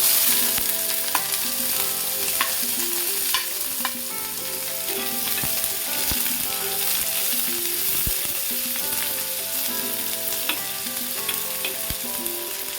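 Finely chopped big onions fry in about four tablespoons of oil in a pan while an egg curry is being made. A steady, loud sizzle carries on throughout, broken by occasional stirring scrapes, with no talking.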